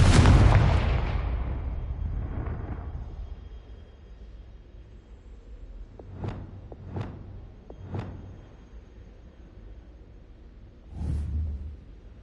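Confringo fire spell from Hogwarts Legacy: a big blast at the start fading out, then three short sharp bursts in quick succession and one more a few seconds later, with no talk.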